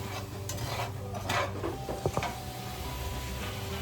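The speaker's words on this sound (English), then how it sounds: "so, got our shrimp in the skillet" Cold shrimp hiss in a hot skillet while a utensil clinks and scrapes against the pan, a close, quiet sizzle with a few sharp knocks and no talking.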